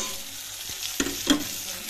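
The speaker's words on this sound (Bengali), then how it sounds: "এবার আমি মশলাগুলো দিয়ে কষাবো।" Prawns and spices sauté in a pan over a low steady sizzle, with a couple of close scraping stir strokes and clinks of the utensil against the metal.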